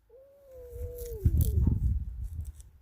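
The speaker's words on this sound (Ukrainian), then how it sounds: "Але це коти, це коти нявчать." Two cats, a black one and a black-and-white one, fighting: a long, drawn-out wavering meow slides downward, followed by a rougher, growling yowl up close.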